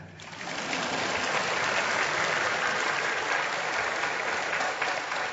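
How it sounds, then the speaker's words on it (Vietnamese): A church congregation at a Mass for Saint John the Baptist breaks into applause, a broad, even roar of many hands clapping that rises quickly and holds steady throughout. "Thế anh chị em không vỗ tay à?"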